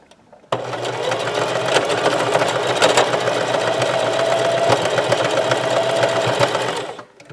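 A sewing machine set to a number 2 stitch width runs continuously, stitching a thermal camo shirt with a steady, fast mechanical whir from start to stop, close and loud with no pauses.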